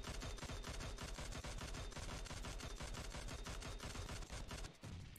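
Rapid automatic gunfire from a weapon fired with recoil in PUBG Mobile, a long, loud, evenly spaced stream of shots that cuts off abruptly near the end.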